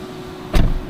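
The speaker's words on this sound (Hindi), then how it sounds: "ये बटन आप दबाएंगे तो इसका दरवाजा थोड़ा सा ओपन होता है, फिर आप उसको पुश करते हो।" A Tesla car door pops open at the press of its button: a single short mechanical clunk and whir near the middle, loud and close over a quiet background.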